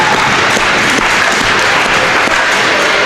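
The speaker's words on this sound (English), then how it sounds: "To a round of applause" Crowd applause at an ice hockey game, steady and dense clapping from a packed arena sustained for about three seconds as an injured skater rises and skates off.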